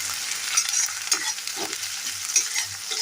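Onions frying in a pan for spicy potato-stuffed chili pakora, a continuous close sizzle with regular stirring scrapes and clicks, no voices.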